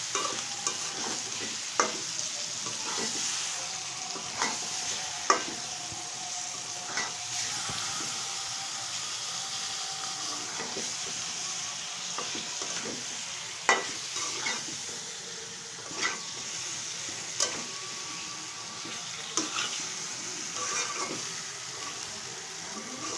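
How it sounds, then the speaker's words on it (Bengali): Rohu fish being sautéed and stirred in a pan for kalia, with a steady close sizzle and hiss throughout, punctuated by sharp clacks and scrapes of the spatula every few seconds. "এখন এই মাছটাকে ভালোভাবে কষিয়ে নেব"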